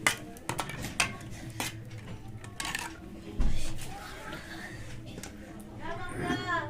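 Rice being served onto a plate with clinks and knocks of a spoon against dishes, scattered sharp taps through the clip while someone talks over them.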